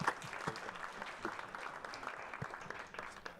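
Audience applause for a team at a hackathon, steady scattered clapping from a moderate-sized crowd lasting throughout, fairly distant and even, with a few sharper individual claps standing out.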